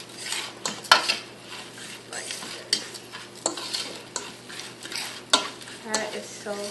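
Food tossed in spices in a pan, with repeated scraping and clinking of a utensil against metal and a soft sizzle underneath, in irregular close strokes.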